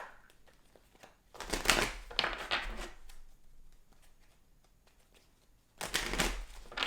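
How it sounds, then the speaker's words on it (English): Tarot cards are shuffled and drawn in two bursts of crisp riffling and slapping, a longer flurry early on and another short run near the end, with quiet rustling in between and no voices. "I'm going to pull two more cards for that."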